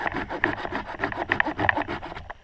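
A Kershaw Trailmaster folding saw with aggressive teeth cuts through wood in quick, rasping back-and-forth strokes, close and fairly loud, with no talking.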